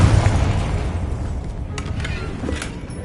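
A Confringo blasting spell detonates in Hogwarts Legacy, a couple of loud booming bursts over a steady rumbling background.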